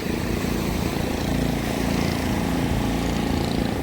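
Fishing boat engine droning steadily as the boat returns to the shore at Kovalam beach, Chennai, a continuous loud motor hum with a low, even rhythm and no talk over it.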